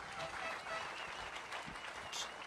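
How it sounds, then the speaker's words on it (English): Crowd applause at a Bassmaster Elite bass-fishing tournament weigh-in on the St. Lawrence River, a steady wash of clapping held for a couple of seconds with possible voices mixed in. "Let's give our service crews a big round of applause,"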